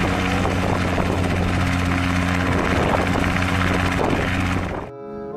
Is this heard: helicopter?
yes